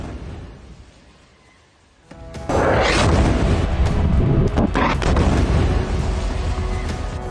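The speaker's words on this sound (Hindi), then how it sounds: "खान यूनिस में इजरायली जेट ने हमास की एक बिल्डिंग पर यह बम ड्रॉप किया और उसे जमींदोज कर दिया" A bunker buster bomb dropped by an Israeli jet strikes a building in Khan Younis, a sudden deep roaring blast after a quiet moment that swells into a loud, sustained rumble of collapse and debris lasting several seconds.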